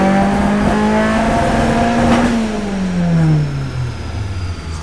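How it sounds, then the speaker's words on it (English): A car engine revs hard and stumbles, breaking up from an ignition misfire, then its pitch sags as the revs fall away, loud and close with no voices. "So it sounds like it's breaking up due to the ignition, not the fueling."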